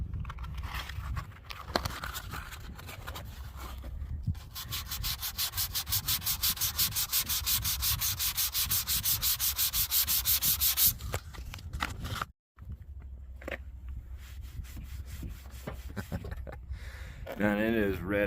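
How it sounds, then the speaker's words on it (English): Vinyl wrap is sanded by hand with 400 grit sandpaper in close, continuous rubbing strokes, a harsh scratchy hiss that pauses briefly partway through and then resumes. "That does exactly what you would expect sandpaper to do. Give it a nice little 400 grit finish."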